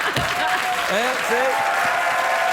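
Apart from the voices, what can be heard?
studio audience applauding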